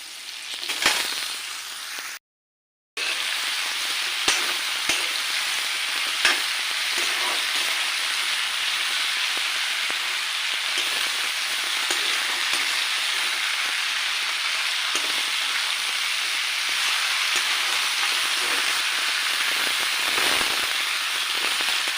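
Vegetables stir-frying in a pan for an Assamese dish, a steady close sizzle and crackle that runs almost the whole time, cut off by one short silent gap near the start, with no voices.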